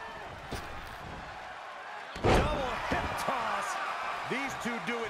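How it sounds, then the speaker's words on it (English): A wrestler lands a belly to belly suplex in WWE 2K22, a single heavy slam thudding onto the ring mat, followed by lingering crowd noise and a commentator talking over it. "Belly to belly suplex."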